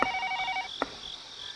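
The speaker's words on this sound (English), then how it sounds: "As I go to get them, the phone rings again." A telephone rings in the video game Higurashi: a short electronic double-tone trill, then a click, followed by fainter high chirping tones, all clear and alone.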